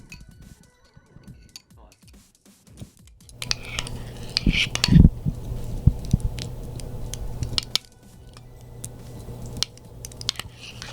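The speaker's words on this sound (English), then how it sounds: "Stir it up real quick." A spoon stirring a pot of beans, with soft scraping and clinking that swell in the middle and then settle into a steady, close rustle while people talk.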